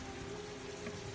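Heavy rain in a PS4 video game, a dense, steady hiss of drops hitting surfaces, loud and unbroken for about a second with no voices.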